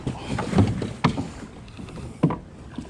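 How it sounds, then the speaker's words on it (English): A person climbs into a canoe on a lake, giving a few close, uneven thumps and knocks of the hull with faint splashing and wind noise between them. "I get in the canoe."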